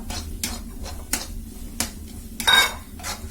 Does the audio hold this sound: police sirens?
no